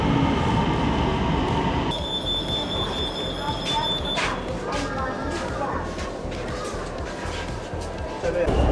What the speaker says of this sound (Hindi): आवाज़ भी आ रही है, ट्रेन आ रही है